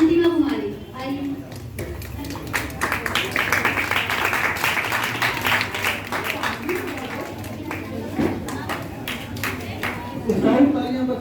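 Scattered clapping swells into steady applause from a school assembly crowd at an Independence Day celebration, honouring a Class 6 student who topped her marks, with voices talking over it throughout.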